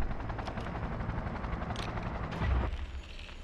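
Helicopter flight in the video game Cyberpunk 2077, a dense rotor and engine drone with rhythmic blade chopping, loud and close, swelling near the end before dropping away.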